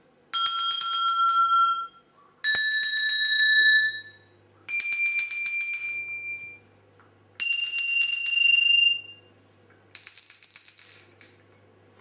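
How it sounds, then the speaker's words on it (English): A set of small bells of similar pitch rung one at a time in a musical memory game, five clear bright strikes spaced about two seconds apart, each ringing out and fading before the next. "Eventually you can use family of bells"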